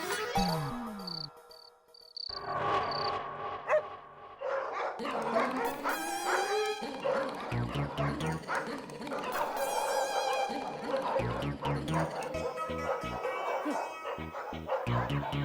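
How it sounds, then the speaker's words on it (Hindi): Dogs bark at night in a sitcom scene, repeated sharp barks and yips ringing out loudly and close, mixed with whimpers in an uneven, overlapping rhythm, with a voice briefly heard alongside. "पता नहीं इन कुत्तों को रात को क्या हो जाता है"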